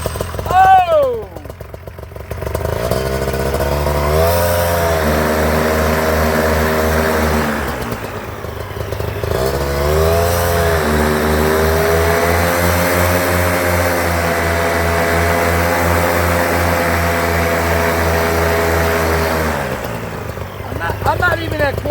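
A powerful engine cranks and catches, then settles into a loud, steady rumbling idle with rising revs and a brief dip before picking up again; someone speaks at the start.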